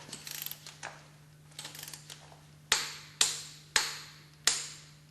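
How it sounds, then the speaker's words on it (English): Screws on an impeller pump being tightened in diagonally opposite pairs: light metallic clicks and rattles first, then four sharp, evenly spaced clacks, close and distinct with no voices. "Tighten the screws in diagonally opposite pairs"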